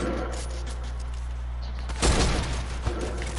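Video game gunfire bursts out as a sharp volley midway through, with a steady low hum and background game sounds beneath it and a single further shot shortly after.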